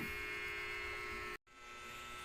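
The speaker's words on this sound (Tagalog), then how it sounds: "Yan ang electric fan ko." A household electric fan gives off a faint, steady electric hum that cuts out for a moment and then resumes, with no talking.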